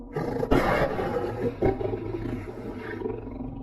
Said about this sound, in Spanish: de la cima de las montañas se escucharon unos rugidos